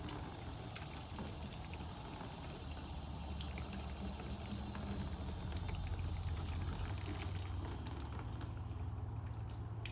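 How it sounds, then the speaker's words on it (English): Water dribbling from a pumped camping solar shower onto a vehicle near the headlight, a continuous close splashing trickle with a steady hiss and no talk. "as you can see, we're just dribbling here."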